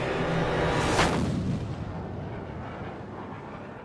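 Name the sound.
artillery gun firing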